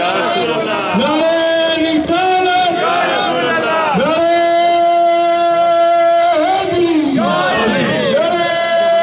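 A large crowd at an annual Mawlid procession chants religious slogans in loud unison, with long sustained shouted phrases rising and falling in repeated waves that fill the whole stretch.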